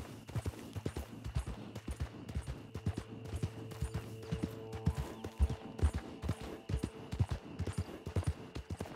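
Horse hooves clopping in a steady, even rhythm while riding in the video game Red Dead Online, close and clear, with a low tonal hum underneath.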